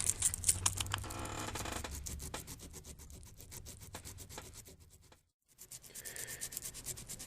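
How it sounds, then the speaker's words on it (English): Hand sanding with 220 grit sandpaper on a trigger kit part, a quiet rhythmic rubbing scratch of short strokes, pausing briefly before resuming, no voices. "I'll smooth it up with some 220 grit"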